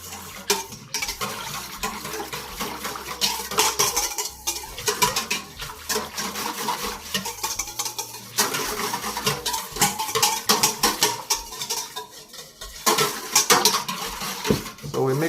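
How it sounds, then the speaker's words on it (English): Yeast stirred into lukewarm water in a bowl, a continuous run of close spoon scrapes and clinks against the bowl with soft sloshing, busy and uneven throughout. "So we mix it until it becomes really liquidy and we don't see little pieces of yeast"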